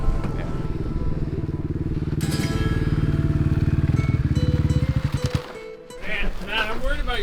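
A Ducati DesertX rally motorcycle engine thrums steadily and loud at close range on rough rally terrain, its pulsing drone rising then dropping away near the end, followed by someone speaking.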